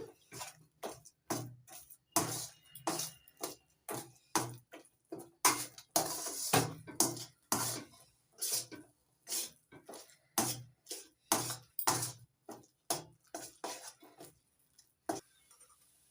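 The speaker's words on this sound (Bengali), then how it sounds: "একটু নাড়াচাড়া করে মিশিয়ে নিচ্ছি" A spoon stirs salt and black salt into an amla mixture, giving a quick run of close, crisp clinks and taps against the bowl in an uneven rhythm, each short and bright, with no talking.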